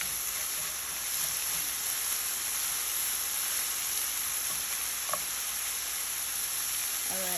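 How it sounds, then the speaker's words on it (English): Sweet potato and chickpeas sauté in a hot pan with salt, giving a steady, even sizzle and crackle that fills the whole stretch, close and moderately loud, with no one talking. "We're gonna let that saute a little."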